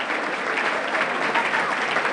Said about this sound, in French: Est-ce qu'on peut applaudir mieux que ça?